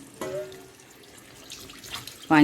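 Water poured into a pan of fried masala while cooking Punjabi chicken: a faint running trickle, then a sudden loud splash and sizzle at the end.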